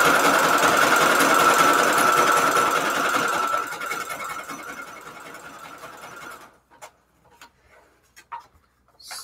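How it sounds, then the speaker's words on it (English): A sewing machine stitches paper book pages into an envelope, running loud and steady for several seconds, then easing off before it stops, followed by a few short clicks and knocks. "And I'm going to sew all the way around."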